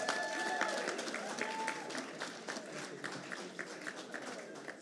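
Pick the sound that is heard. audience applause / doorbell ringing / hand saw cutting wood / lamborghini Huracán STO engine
audience applause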